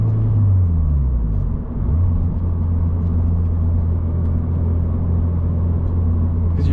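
A 2024 Toyota GR86 with a manual gearbox drives along, its engine a steady close low rumble with a brief rising whine early on as revs climb and drop through a gear change, then an even drone.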